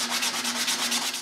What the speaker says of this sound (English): I begin by sanding the exterior.